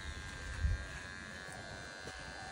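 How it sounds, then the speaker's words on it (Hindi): An electric trimmer buzzes steadily while a man's moustache is cut, a thin constant hum with a brief louder bump partway through and no clear speech. "अब ट्रिमर डिस्चार्ज हो गया"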